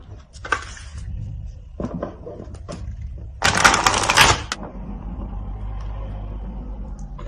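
Cards being added to a spread of cards make a short shuffling, riffling burst about halfway through, set between quieter soft handling sounds and light taps at close range.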